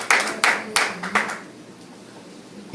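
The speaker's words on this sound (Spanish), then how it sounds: "Denle un aplauso al Señor." A church congregation claps in a Spanish-language service, with four sharp, evenly spaced claps close by, then a fading quiet room.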